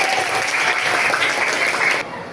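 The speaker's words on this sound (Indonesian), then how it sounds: "Beri tepuk tangan untuk kita semua." Classroom applause from a group of students, steady dense clapping close by for about two seconds before cutting off abruptly.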